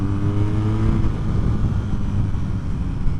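A 2023 BMW R nineT 100 Years Edition motorcycle engine revving hard toward its rev limiter near 8,500 RPM, a loud, steady, throbbing boxer-twin roar with rumbling low tones and wind rush, no talking.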